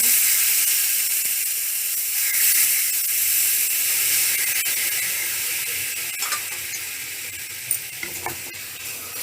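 Garlic and cumin tadka for a guar bean raita sizzles in hot oil with a steady bright hiss, fairly faint and close, with a few small clicks and stirring sounds and no talking.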